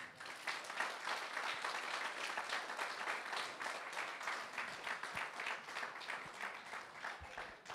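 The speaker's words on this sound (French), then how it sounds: "Est-ce qu'on peut applaudir tous les parents, s'il vous plaît?" A congregation claps for parents at a church gathering, dense continuous applause at a fairly low level, steady throughout with no talking over it.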